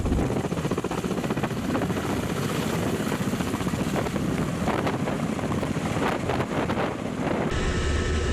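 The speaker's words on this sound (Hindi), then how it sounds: "रशिया ने अपने खौफनाक खतरनाक KA-52 अटैक हेलीकॉप्टर से यूक्रेन के अलग अलग ठिकानों और अड्डों पर हमले किए हैं।" A Russian Ka-52 attack helicopter drones continuously with a loud rotor and engine roar, heavy wind buffeting the microphone, and the sound shifts abruptly near the end.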